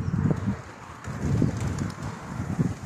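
Pigeons cooing close by in soft, low repeated phrases, about four bursts over a few seconds, with light wind noise behind them.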